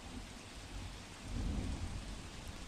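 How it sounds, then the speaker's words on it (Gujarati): Heavy monsoon rain pours down in Surat's Limbayat area, a dense steady roar of rain on surfaces that swells slightly midway, with a low rumble underneath and no voices. "સુરતમાં ધોધમાર વરસાદ પડ્યો છે।"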